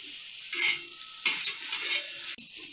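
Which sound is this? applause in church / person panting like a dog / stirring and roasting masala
stirring and roasting masala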